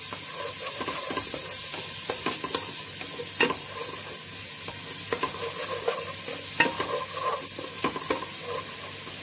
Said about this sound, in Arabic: نحط البصلة، البصلة مجرد ما تتشوح بس